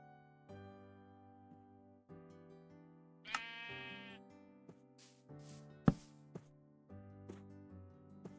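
Sheep in the video game Minecraft bleat repeatedly, a series of clear, wavering tonal calls in an irregular rhythm with short pauses between them, quiet and close with no talk.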